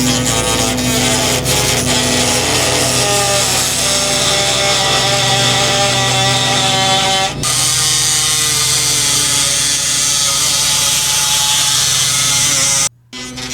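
A high-pitched Dremel rotary tool grinding steadily through a cracked metal cymbal, a continuous shrill whine with a brief break midway and an abrupt stop near the end.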